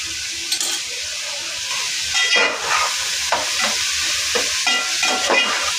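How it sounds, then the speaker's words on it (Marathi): Food sautéing in oil in a pan, a continuous sizzle with bursts of frying hiss and scraping stirring strokes, close and moderately loud with no voices. "परतून घेऊया"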